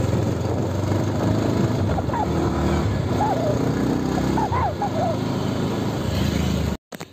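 A motorbike being ridden on the road, its engine running with a steady droning hum and wind noise that holds evenly before cutting out abruptly at the end.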